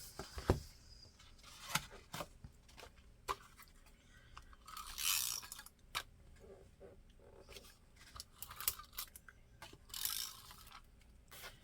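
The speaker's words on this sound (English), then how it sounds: "put tin foil in and cut tin foil a couple of times, and it'll sharpen it back up" Small scissors snipping through tin foil, a series of faint crisp crunching cuts spaced irregularly in a quiet room.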